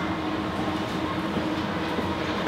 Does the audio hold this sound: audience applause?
no